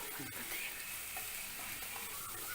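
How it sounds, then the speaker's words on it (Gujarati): Coriander-cumin powder is stirred into a hot pan of carrot sambharo, giving a continuous soft sizzle with light scraping. It sounds close and steady, and there is no talk. "ધાણા જીરું ઉમેરીશું 1 ટીસ્પૂન અને બધું હલાવી લેવું"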